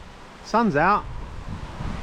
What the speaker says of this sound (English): It's a bit of a windy day.